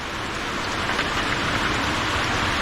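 Steady, dense rain pouring down and blowing into a house, a constant close hiss with no pauses and no talking.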